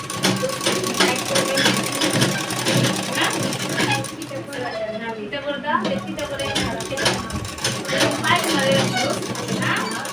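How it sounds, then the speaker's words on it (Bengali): Sewing machine stitching the long side of a garment with a bordered edge and short sleeves, a steady fast mechanical whir and rattle close by, with a voice talking over it in places. "এদিকটা এবার আমি কিন্তু লম্বাটা সেলাই করে নেব"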